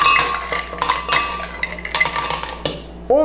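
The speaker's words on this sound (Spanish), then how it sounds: "Vamos a utilizar un vaso grande de hielo." Ice cubes clatter and clink into a large glass for a homemade mocha frappuccino, a quick run of bright, sharp clinks and tumbling knocks, close and loud.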